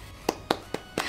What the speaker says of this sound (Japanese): セルフ拍手